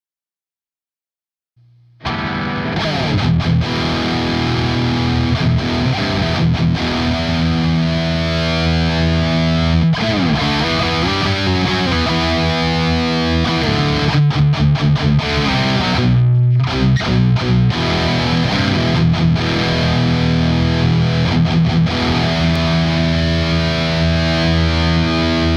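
A Schecter Banshee GT FR electric guitar on its bridge pickup starts after a short pause and holds heavy distorted metal chords and riffs, loud and continuous with brief chugging breaks.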